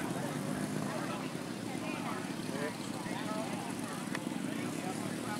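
Piper Pawnee propeller aircraft fly overhead at a rally, their steady drone heard at a distance under continuous crowd and commentator noise.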